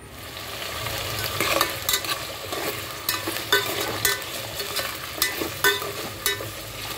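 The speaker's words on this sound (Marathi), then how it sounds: "तर ह्याच तेलामध्ये मी ह्या ज्या भाज्या आहेत ना त्या मी फ्राय करून घेते।" Vegetables frying in oil for a vegetable biryani, a steady crackling sizzle with rhythmic stirring scrapes every second or so, close and fairly loud with no voices.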